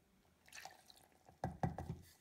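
Water poured from a small carafe onto baking soda to make a paste, heard as a short run of close splashy trickles and drips after a quiet moment.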